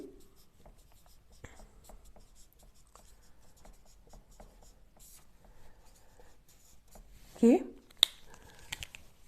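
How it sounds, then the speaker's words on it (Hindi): Marker or chalk scratches across a classroom board in short strokes during a Hindi grammar lesson, soft scraping under a teacher's quiet speech, with a louder tap and rustle near the end. "मैं यहाँ लिखती भी जाती हूँ"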